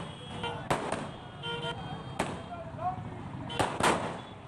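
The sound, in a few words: firecrackers bursting at election victory celebration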